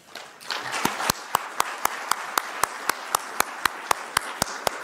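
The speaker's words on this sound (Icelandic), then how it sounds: "Við skulum gefa þeim gott klapp" Audience applause for panel participants at the close of an Icelandic meeting, starting as a soft patter and settling into a slow, steady rhythm of sharp, evenly spaced claps.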